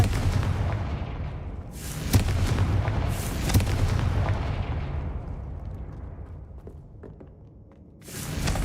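Confringo fire spell blasts in the Hogwarts Legacy video game, several sharp bursts over a continuous rumbling bed, loud and close, the last burst near the end.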